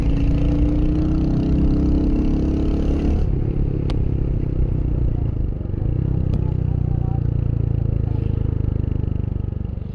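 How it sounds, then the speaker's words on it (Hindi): Motorcycle engine while riding, heard as a loud, continuous rumbling drone with a shift in pitch partway through and a few sharp clicks, and no talk over it. "अब यहाँ पे मैं बाइक की आवाज़ इंक्रीज़ कर देता हूँ।"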